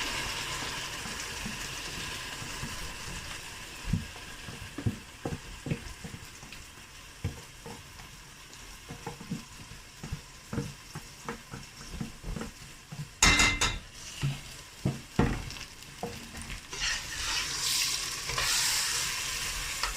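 Marinated chicken pieces, mostly boneless, hitting a hot pan with ginger and garlic for a capsicum chicken dish: a low steady sizzle with scattered scraping and stirring clatter of utensil on pan, a sharper burst near the end, no talking.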